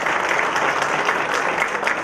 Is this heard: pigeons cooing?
no